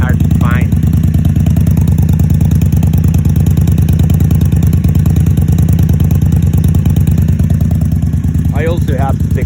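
An Indian Scout Sixty motorcycle with Vance and Hines exhaust and quiet baffles idles close by at a cold start, a steady deep loping rumble throughout with brief higher revs near the start and end.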